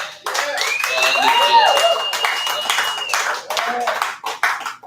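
Clapping from a small audience at a live rock show, scattered close handclaps mixed with cheering and whoops, loud and uneven, with voices shouting over it.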